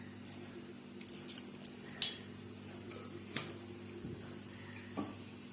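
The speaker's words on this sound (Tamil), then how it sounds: "கடுகு பொரியுது" Mustard seeds spluttering in hot oil in a pan while making kovakkai poriyal, a few sharp pops and crackles scattered irregularly over a faint steady hum, quiet and close.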